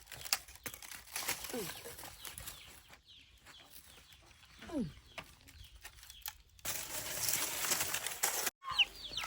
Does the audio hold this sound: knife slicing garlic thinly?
no